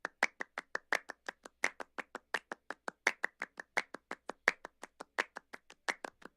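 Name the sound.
layered clap samples in Ableton Live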